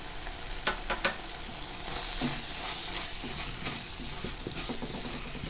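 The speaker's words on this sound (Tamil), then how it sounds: "இப்போ அந்த நெத்திலி மீன் கருவாடை ஆட் பண்ணிக்கலாம்" Dried anchovies tipped into onion, tomato and masala frying in a pan: a steady, moderate sizzle with scattered crackles and a couple of soft knocks near the start.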